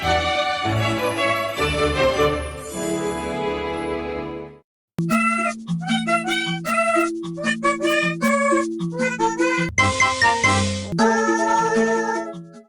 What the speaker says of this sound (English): the 30 Fruits Collected jingle plays whenever you've collected 30 fruits in a level.